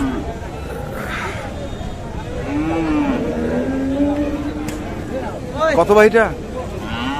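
Crossbred bulls moo loudly at a busy cattle market in Thakurgaon, Bangladesh, several long bellows rising amid steady crowd chatter and people talking close by, with a burst of louder calls near the end.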